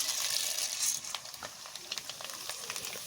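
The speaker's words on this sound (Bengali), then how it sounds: "এইভাবে সাবুগুলো সব আমি ভেজে নেব।" Sago pearls frying in hot oil, a steady hiss strongest in the first second, then softer crackle with scattered pops and light stirring, no voices.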